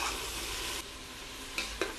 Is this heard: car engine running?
no